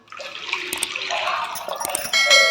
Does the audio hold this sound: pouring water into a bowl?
yes